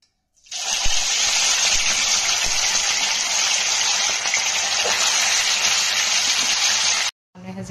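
Oil hisses and sizzles in a hot wok while fish curry is being cooked, a loud, steady, close wash of frying noise that runs unbroken for about seven seconds and then cuts off abruptly.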